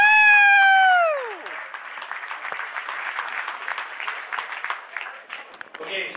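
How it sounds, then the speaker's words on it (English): Applause at a high school hockey banquet, entering after a loud sustained whoop and then continuing as steady, moderately loud clapping from a room of attendees for several seconds. "Give yourselves a round of applause."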